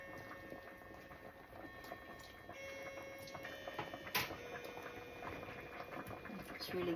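Okra cooks in a pot of boiling fish soup, a soft, steady bubbling and ticking patter heard faintly and up close, with a brief clink partway through.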